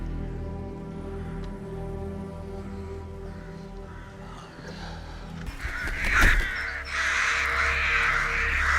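Crows caw in a scene from the TV series FROM, harsh calls rising over a low droning music bed, with a sharp impact midway and the cawing growing louder toward the end.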